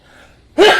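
A single sudden, loud sneeze bursts out near the end after a quiet stretch, sharp and close with a breathy, gasping onset.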